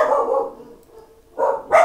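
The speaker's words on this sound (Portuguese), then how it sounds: "Aproveitando a cachorrada latindo aí." Several dogs bark nearby in short, loud bursts, with a pause before two more quick barks, heard alone without talk.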